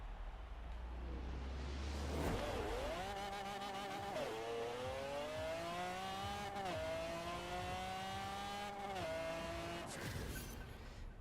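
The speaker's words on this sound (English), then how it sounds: "the Mustang's a stupidly fast accelerating car" A 1900HP drag-built Ford Mustang in Forza Horizon 4 launches hard and screams up through the gears. A loud, continuous engine wail climbs in pitch repeatedly, with brief drops at each manual shift, and no voices.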